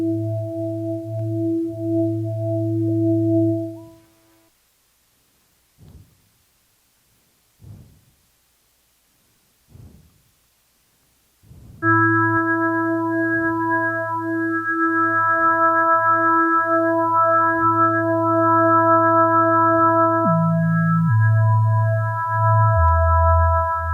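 Steady electronic tones from a Nord Micro Modular synthesizer hold at fixed pitches, cut to silence broken by a few soft knocks, then return as a layered chord of sustained tones that steps down in pitch near the end.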